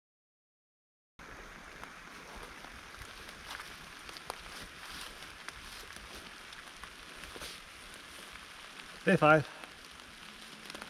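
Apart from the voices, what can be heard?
rain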